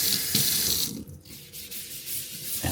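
Water runs from a tap into a sink for cleaning, a close, steady hiss and splash that dips briefly, then continues.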